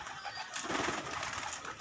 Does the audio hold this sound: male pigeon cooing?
yes